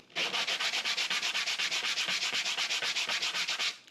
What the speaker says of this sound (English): I'm going to sand on that flat side